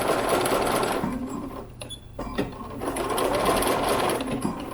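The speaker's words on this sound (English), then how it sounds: "Get some good back stitching in so my pocket's nice and secure." A sewing machine runs steadily while back stitching a pocket onto a wrap apron-style dress, a close, continuous mechanical whir that briefly slows and dips in the middle before picking back up, with no talking.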